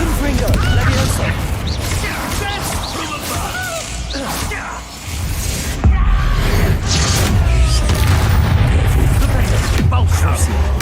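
Explosive Bombarda-style spell blasts in the Hogwarts Legacy video game, loud booming crashes and whooshes layered with clattering impacts and game music, a sharp burst near six seconds, with voices speaking over the action.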